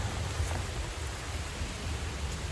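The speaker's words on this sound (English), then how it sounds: "Give thanks for this rain." Steady rain hisses softly and evenly over a dry South Florida farm, a constant wash of noise with no voices or distinct events.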